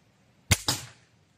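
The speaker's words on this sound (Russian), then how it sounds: "заряжаем маленькую стрелочку от агрегаторов и стреляем" A mini crossbow fires a small arrow into a refrigerator: a sharp, close snap of the release followed a split second later by a second crack of impact, then quick decay into quiet.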